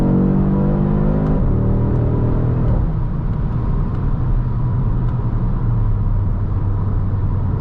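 A 2023 Audi RS 3 engine pulls hard while driving, rising harmonics climbing through gears with a brief shift near the start, then a steady loud rumble under road noise.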